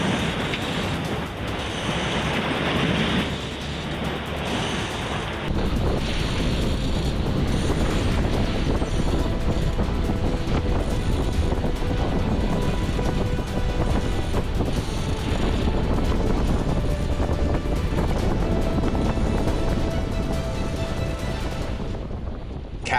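Wind and pounding ocean waves battering a sailboat in the Atlantic amid increasing winds and building seas, a loud continuous rush with buffeting microphone wind and surging water, no talk.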